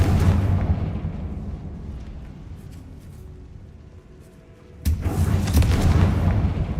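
A fiery explosion from the Confringo spell in the video game Hogwarts Legacy, a deep rumbling boom that fades over several seconds before a second loud blast bursts in near the end.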